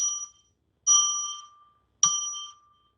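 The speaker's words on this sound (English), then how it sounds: "I'm going to ring a bell 3 times now" A small ritual bell is struck three times, each ring a clear bright tone that sounds alone in silence and decays over about half a second, evenly spaced about one second apart.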